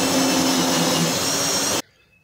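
A power drill bores a counterbore into a sailboat daggerboard, a loud, steady whine with a grinding edge that runs continuously, then cuts off abruptly to near silence.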